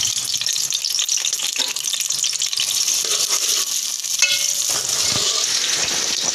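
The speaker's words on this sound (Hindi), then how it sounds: "साथ ही में हम प्याज डालेंगे, प्याज को लाल होने तक पका लेंगे।" Onions frying in hot oil in a pot make a steady, dense sizzle, loud and close, with occasional stirring scrapes and no talk over it.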